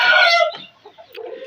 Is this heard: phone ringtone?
no